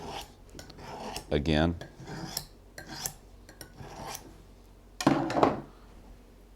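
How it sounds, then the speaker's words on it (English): A knife is sharpened while processing deer meat, giving a few short metallic rasping strokes in separate bursts, fairly close and moderately loud, with quiet pauses between them. "Now I'm going to sharpen my knife a little bit here"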